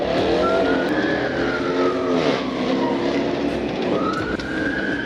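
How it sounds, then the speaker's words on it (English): Black and red Dodge Charger doing a burnout, its tires screeching loudly in long rising and falling squeals over a revving engine, close by and continuous for about five seconds. "an officer heard the unmistakable sound of tires screeching"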